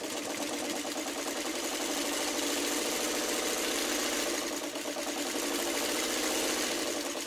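A sewing machine runs steadily, stitching bias-cut fabric for a quilted tulip block, a continuous close mechanical whir with rapid needle rhythm lasting throughout, no voices.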